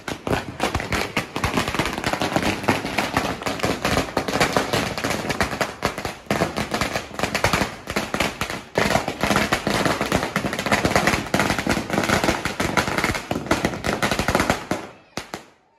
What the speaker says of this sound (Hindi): देखिए ये जय को बम जला रहा है